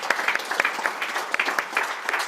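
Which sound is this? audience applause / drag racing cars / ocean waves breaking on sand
audience applause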